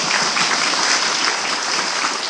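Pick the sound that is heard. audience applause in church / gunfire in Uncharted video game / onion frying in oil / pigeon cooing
audience applause in church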